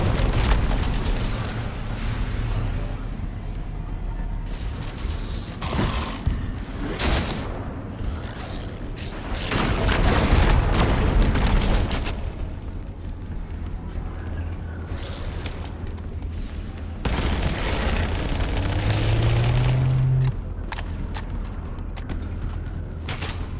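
An overloaded pulse generator explodes in a Halo campaign mission, with a rumbling boom, mechanical creaks and bursts over a dense, continuous battle backdrop, and no talking.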